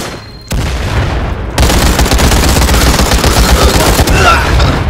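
A grenade blast in the shooter Firewall Zero Hour, a loud booming burst followed by dense, sustained rumbling gunfire and crackle right up close.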